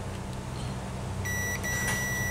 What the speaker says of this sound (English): I know that you can hear that beep, hopefully.